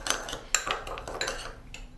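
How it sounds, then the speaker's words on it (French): A spoon clinks and scrapes against a bowl while stirring lemon juice with sugar into a syrup, a few quick close metallic taps and rattles, fairly faint. "mélangeons du jus de citron avec du sucre pour faire un sirop"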